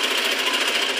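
A sewing machine stitches along a piping edge on cloth, a loud, close, continuous rapid whirring hum with fast even needle clatter and no voices.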